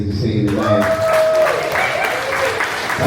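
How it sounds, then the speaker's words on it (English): Audience at a San Antonio comedy showcase claps and whoops steadily for the comedians, with a raised voice calling out over the dense, sustained applause. "y'all give a round of applause to all the comedians you seen tonight."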